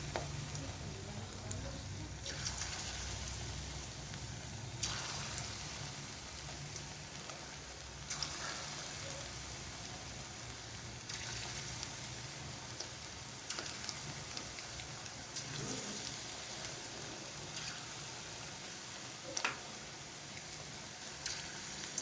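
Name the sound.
fish frying in hot oil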